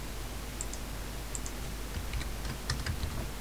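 Computer keyboard being typed on in short, scattered bursts of light clicks and taps, fairly quiet over a steady low hum, no voices.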